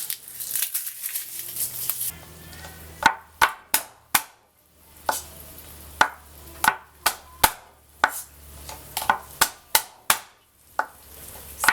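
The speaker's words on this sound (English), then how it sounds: "It can be diced, roughly chopped." Knife chopping garlic cloves on a board: a run of sharp, close, distinct thwacks in irregular rhythm, some in quick pairs, with no talking.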